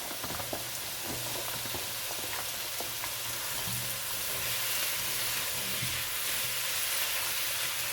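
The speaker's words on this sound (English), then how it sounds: "Sugar snap peas that I've already cleaned, and just going to add that, let it stir fry." Cleaned sugar snap peas stir-frying in a pan, a dense, continuous sizzle close to the ear with occasional stirring clicks and scrapes, no voices.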